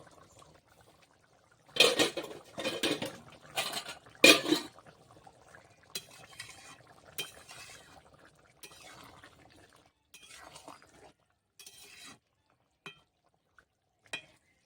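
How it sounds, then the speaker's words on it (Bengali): A pot lid lifted off a simmering pot of Bengali jackfruit and prawn curry, giving a few loud metallic clanks and scrapes up close, followed by lighter intermittent clinks and stirring sounds with no talking. "ঢাকনাটা খুলে দেখি তরকারিটা কতটা হলো"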